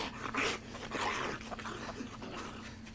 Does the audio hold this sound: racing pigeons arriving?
no